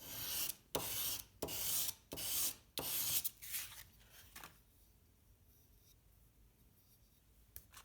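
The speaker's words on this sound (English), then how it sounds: "Then you sharpen again a little bit." A knife blade being re-sharpened after repairing a broken tip: five loud rasping strokes in a steady rhythm at close range, then a few fainter passes before the scraping stops and near silence follows.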